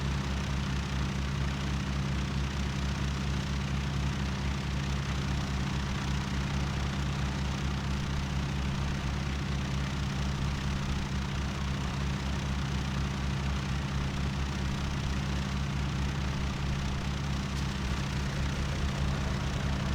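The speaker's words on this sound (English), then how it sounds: "let's start the engine number 1" A Junkers Ju 52 engine idles in the IL-2 Sturmovik game with a steady, droning low throb and even pulsing, loud and unbroken throughout.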